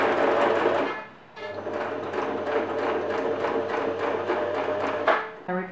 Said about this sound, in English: Sew it across once and then back up and sew it across one more time.